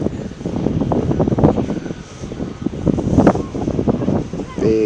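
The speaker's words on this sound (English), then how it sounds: "Posh jet." A private jet near an airport gives a steady engine rush beneath nearby people talking, with wind buffeting the microphone.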